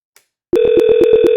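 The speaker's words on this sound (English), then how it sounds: "So I'm gonna dial my extension." Ringing from an X-Lite softphone calling an extension: a steady electronic ring tone with a rapid pulsing warble starts after a brief tick and continues loud and alone.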